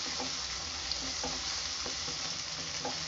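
Ginger and garlic sizzle steadily in a pan for prawn curry, a continuous mid-level frying hiss with occasional soft stirring scrapes and small pops throughout.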